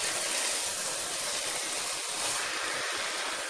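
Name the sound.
steam hissing from a pot while cooking aviyal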